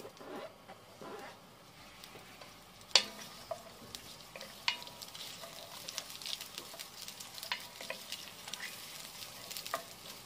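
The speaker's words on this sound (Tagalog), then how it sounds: "sa aking pagigisa, ang una ko munang nilalagay ay sibuyas" Onions sautéing in a pan, the first ingredient of the sauté for a breadfruit dish, give a steady soft sizzle with scattered crackles and a few sharper clinks of stirring throughout.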